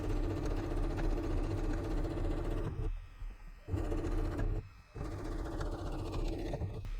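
A sewing machine stitches through thick, many-layered fabric and elastic on an A5 notebook pen holder, its steady motor hum running close and continuous, with two short pauses where the stitching stops before carrying on.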